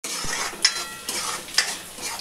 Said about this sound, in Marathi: पनीर फ्राय करते.